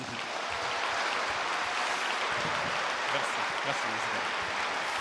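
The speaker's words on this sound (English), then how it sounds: "Je vous demande un tonnerre d'applaudissements pour Monsieur Christian" An audience at an inbound marketing talk applauds as the speaker Christian Kinnear is welcomed, a sustained, even roar of many clapping hands, steady in level from start to finish.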